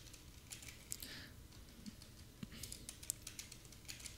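Quiet, fairly fast typing on a computer keyboard, with irregular clicks and taps of keys through a setup of Python and Selenium, close and alone, with no talking.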